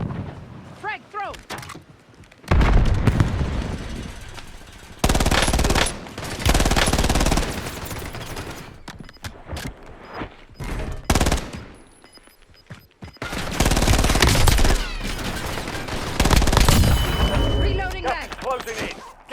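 A frag grenade explodes amid heavy gunfire in a Warzone match, with loud bursts of automatic fire and booming blasts coming in several intense waves separated by quieter gaps.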